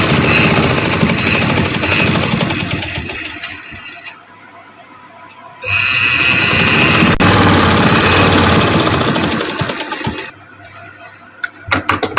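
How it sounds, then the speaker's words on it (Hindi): A sewing machine stitches lace onto fabric in two long rapid mechanical bursts with a quiet gap between them, then trails off into short irregular clicks and knocks. "ये लैस मैं यहाँ पे सिलाई लगाऊंगी"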